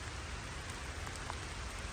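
Steady rain falling in the woods during a late-season rifle blacktail deer hunt in western Washington, a dense, even hiss of drops with a few brighter patters, continuous and close, with no talking.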